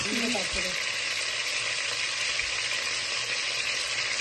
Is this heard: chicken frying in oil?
yes